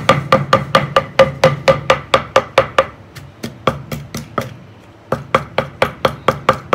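Calamansi is pounded for a seasoning sauce in a home kitchen, giving a loud, close run of rapid, regular thuds, a brief pause, then another steady series of knocks, with no talking over it.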